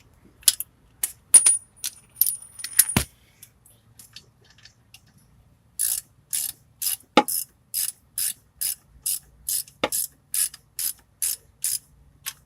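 Ratchet clicks tighten bolts on the turbo up pipes of a 2000 Ford 7.3 diesel, starting with a few irregular bursts and a metallic clank, then a run of even, close ratchet strokes.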